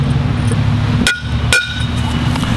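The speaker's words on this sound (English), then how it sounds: "it's one little tap, or two little taps, all along the line that you want to cut." Hammer tapping to score a concrete brick: two crisp, ringing strikes about half a second apart, close and loud over a constant low engine-like drone.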